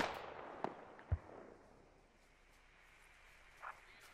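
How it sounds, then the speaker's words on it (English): Distant rocket explosions in the military shooter game Squad, a few faint muffled booms and cracks spread over a quiet background, no talk. "Another rocket overshoots the fob."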